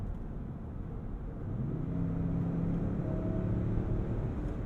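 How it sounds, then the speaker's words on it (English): A 2022 Lincoln Navigator Black Label engine in Excite mode drones low from inside the cabin, rising steadily in pitch and loudness as the SUV accelerates and holds its gears, with no talk over it. "Also in Excite mode, you can really hear that"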